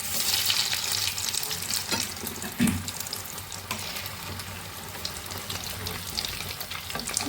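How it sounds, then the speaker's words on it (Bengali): Vegetable chops frying in oil for a Makar Sankranti dish, a steady bubbling sizzle throughout with a soft clink of stirring near the middle, close and without talk. "লাল লাল করে এখন আমি ভেজে নেবো এগুলো।"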